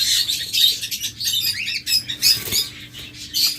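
Pet birds in a seller's cages chirp in quick, high bursts close by. Light wing-flutters and soft pattering can be heard among the calls, with no talking.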